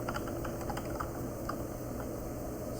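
Steady, fairly quiet tapping on a computer keyboard, a quick run of keystrokes continuing without pause over a constant background hiss.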